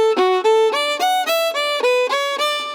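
A simple Irish folk melody on a single tonal instrument, played in even, square note lengths with no swing, clear and fairly loud.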